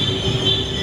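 A train arrives at a crowded station platform on the line toward Baclaran, a loud, sustained high wheel squeal over low rumbling.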